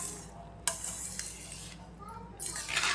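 Salt and spice powder are stirred into puffed rice in a pan, giving a soft dry rustling scrape, with a few sharp clinks of the spoon against the pan.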